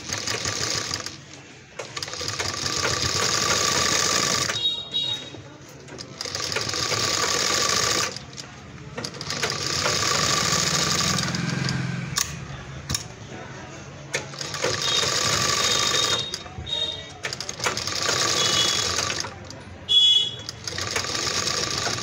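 Sewing machine stitching along a blouse neckline, running in long steady bursts with brief pauses between them, loud and close throughout.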